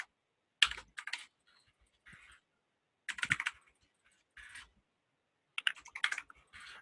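Typing on a computer keyboard, three short bursts of quick clicking keystrokes separated by silent pauses, close and clear with no talking.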